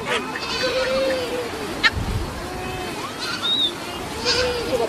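A goat bleats several times with wavering cries amid other livestock noise, recorded outdoors with people talking nearby.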